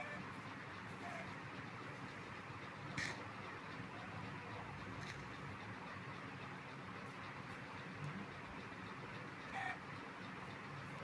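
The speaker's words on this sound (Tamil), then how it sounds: "எப்பா சிக்கன் கிடச்சிருச்சு." Chicken clucking in the video game Minecraft, a few short clucks spaced out over a steady, noisy game background with no speech.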